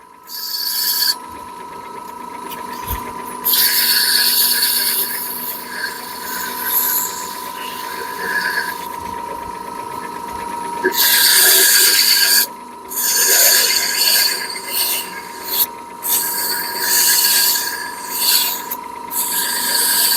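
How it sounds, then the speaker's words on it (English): A power sander works mahogany wood up close, a continuous rasping, grinding rub with a steady motor hum beneath, surging louder in uneven bursts and brief dips throughout. "One thing about mahogany is it sands real easy."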